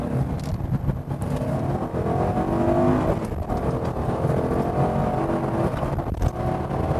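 A Ford Mustang GT California Special V8 engine drones and accelerates steadily, loud and close, with a rising, rumbling tone and no talking over it.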